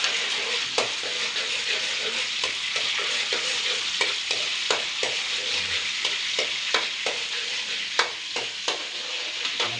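Garlic fries in a hot pan for string beans with corned beef, giving a bright continuous sizzle broken by regular scraping strokes of a stirring utensil, close and steady with no talking.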